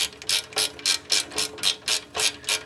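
Ratchet wrench loosening a torque converter nut under a 1977 Ford F-250, nine evenly spaced clicking strokes, each a close, crisp burst of ratchet teeth.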